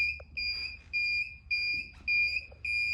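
A house alarm sounds in loud, steady electronic tones, repeating in even half-second pulses separated by short gaps, piercing and close with no voices over it.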